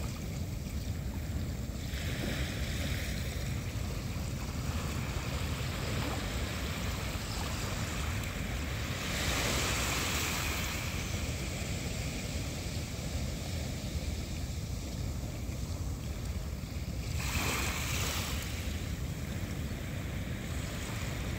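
Ocean waves wash onto the shore in slow, soft surges about every seven or eight seconds over a constant hiss of surf. The sound is distant and gentle, with no voices.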